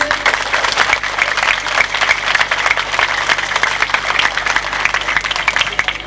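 Crowd at an outdoor independence day dress show applauds to vote for a contestant, a loud, continuous round of dense clapping with crowd noise underneath.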